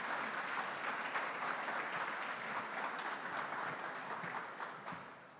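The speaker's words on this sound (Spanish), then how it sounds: "Pido un fuerte aplauso para ellos y los invitamos al escenario." An audience at a digital-transformation industry congress welcomes panel speakers to the stage with sustained, even applause that slowly tapers off toward the end.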